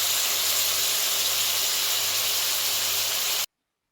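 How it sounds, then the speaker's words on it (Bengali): Chicken frying in oil in a pan over a high gas flame gives a loud, steady, close-up hiss and sizzle that holds for a few seconds, then cuts off abruptly. "গ্যাসের ফ্লেমটা হাইতে করে দিয়ে কিন্তু আমি চিকেনগুলো ভালোভাবে কিন্তু একটু ভেজে তুলে নেব"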